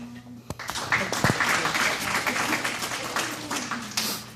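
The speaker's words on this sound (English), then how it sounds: "Just take some time out and give them a hand clap." Audience clapping at a motivational speech event, a scattered burst of hand claps with some voices mixed in, filling the short stretch at moderate loudness.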